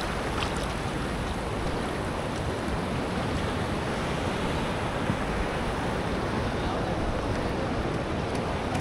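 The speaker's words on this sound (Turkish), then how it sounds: "birden de bakın şurada şelale gibi oluşuyor dalga vurunca," Ocean waves crash on a Sri Lankan shore as a dense, steady roar of surf and churning water, loud and close throughout with no pauses.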